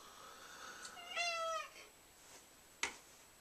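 A single drawn-out cat meow rises and falls over quiet background hiss, followed a moment later by a sharp click.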